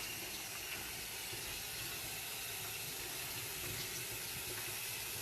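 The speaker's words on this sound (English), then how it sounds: "I'm going to pull this out and give this a quick rinse" Running tap water pours steadily over turmeric-dyed fabric being rinsed after a 20-minute dye bath, a continuous soft hiss and splash at moderate, low level with no talking.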